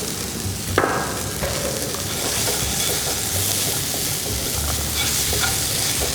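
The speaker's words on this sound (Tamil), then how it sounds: "இந்த மசாலாவோட சேர்ந்து வதக்கிட்டே இருக்கணும்." Boiled black chickpeas sauté in a hot pan of masala for a black chana curry, giving a loud, steady, close sizzle with faint stirring scrapes throughout.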